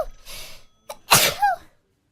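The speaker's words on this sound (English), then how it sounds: "Hold on, I gotta sneeze." A single loud sneeze from a woman, a quick sharp inhale followed by an explosive burst with a rising squeaky tail, close to the microphone and not accompanied by any talk.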